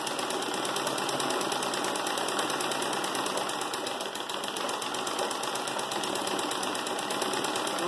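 A sewing machine doing Turkish-stitch machine embroidery whirs steadily and evenly throughout, with a fast, regular needle rhythm at moderate level and no talk.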